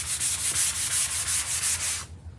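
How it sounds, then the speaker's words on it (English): Hand sanding on a Chalk Couture craft piece: about eight quick, rhythmic back-and-forth rasping strokes, close and clear, then stopping abruptly into quiet. "So I'm just sanding this down a little bit."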